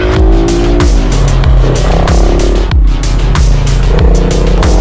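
A motorcycle on a race track, fitted with different tyres, roars steadily close by as its engine pitch climbs and drops through repeated gear shifts.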